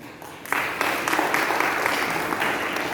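An audience claps at a spiritual talk, a sudden burst of steady applause that starts after half a second and carries on evenly to the end.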